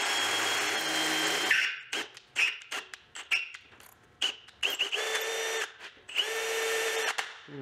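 A power drill whirs loudly up close, first one long steady run, then a string of short bursts, then two longer pulls with a rising pitch, all with no talk.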